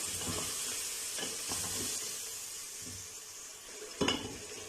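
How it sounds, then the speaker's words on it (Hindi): Mutton sizzles steadily in a pot while a utensil scrapes and stirs at intervals, a soft continuous frying hiss with a sharper clatter near the end, with no talking. "5 से 7 मिनट हो चुके हैं हमारे मटन को जो है वो फ्राई करते हुए, भूनते हुए।"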